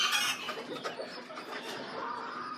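Several chickens cluck and chatter nearby in quick, irregular bursts, with a rooster-like call mixed in.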